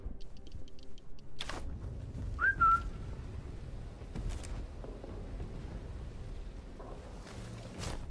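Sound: whistle trick in the video game Sniper Elite 5

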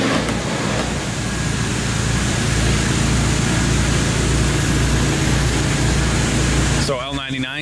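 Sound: shop fans running

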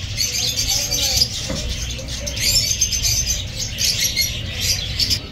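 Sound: lovebirds chirping at a Baghdad bird market

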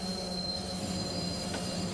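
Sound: train braking and wheels squealing in Roblox video game

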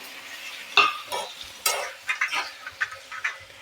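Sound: sautéing ginger-garlic paste and tomato pieces in pan

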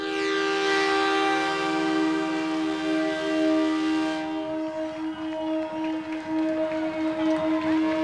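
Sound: Gran Capitán passenger train arriving at Garupá station, sounding its horn

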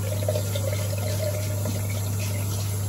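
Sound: water running to wet shaving gear

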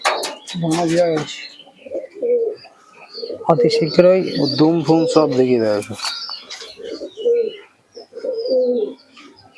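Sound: pigeons cooing, Madras pigeons for sale

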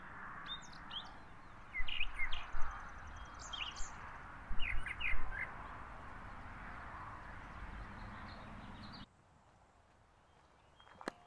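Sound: birds singing outdoors in historic Appomattox, Virginia

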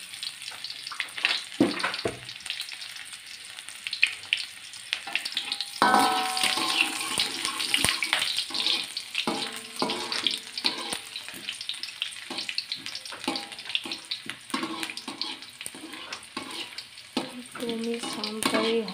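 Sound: garlic being sautéed and stirred in a pan

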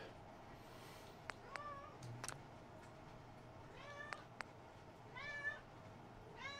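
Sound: cat meowing in the room

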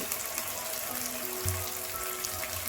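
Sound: chicken frying in a pan with turmeric

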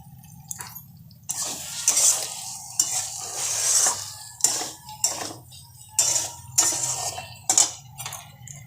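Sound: onions being sautéed in oil for prawn curry

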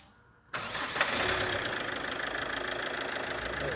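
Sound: Chevrolet Captiva engine starting after camshaft replacement

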